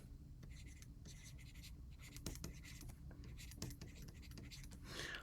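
Pen or pencil writing on paper while working algebra practice problems, a steady close scratching with short strokes and pauses, running continuously and quietly throughout.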